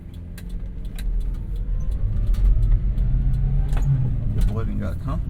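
A Japanese Kei truck drives along, its small engine giving a steady low rumble up close with rattles and clicks from the cab, and someone talking over it.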